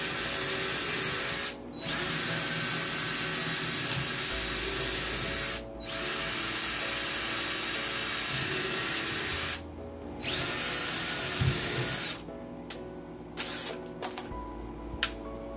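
A power drill drives screws for heavy duty hinges on a hidden bookcase door. It whines in long steady runs broken by short pauses, then gives a few brief bursts near the end, close and fairly loud with no talk.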